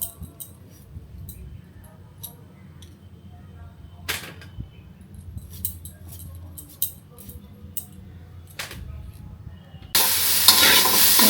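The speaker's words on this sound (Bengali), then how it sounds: "প্রথমে ঢ্যাঁড়সটা ভাজি করে নিচ্ছি" Okra frying in a pan for a home-cooked taro curry, with soft background crackle, a few sharp clinks of a utensil, and a loud hissing sizzle bursting in near the end.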